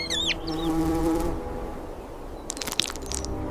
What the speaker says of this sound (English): the bee-eaters dive into the swarm, their bright plumage flashing in the sun, as they capture the African honeybees mid-flight